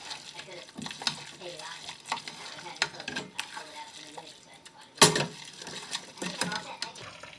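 Cajun mac and cheese with sriracha is stirred in a pan, with a soft sizzle under repeated scraping and clinks of a utensil against metal and one sharper knock midway.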